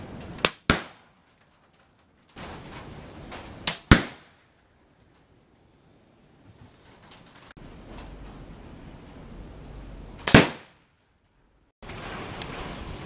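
Airgun shots hitting Firebird Airflash reactive targets at 30 yards on a misty day, four sharp loud cracks spaced a few seconds apart, each followed by a brief decay, with low outdoor background between them.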